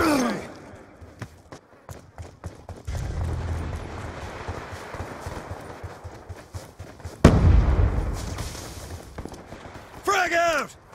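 Frag and concussion grenade blasts in the Black Ops 2 shooter: two loud booms, the sharper one near the middle. Dense gunfire and game noise run throughout.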